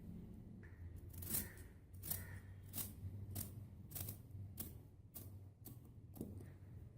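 Scissors cut through fabric for a kalidar frock, about ten crisp snips in an even rhythm, each a sharp close-up cut with quiet pauses between, no speech.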